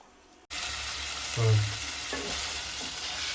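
Chicken pieces being stirred in a hot pan on a gas stove, giving a steady close sizzle of frying with a few scraping stirs of the spoon; the sizzle starts abruptly after a brief quiet moment.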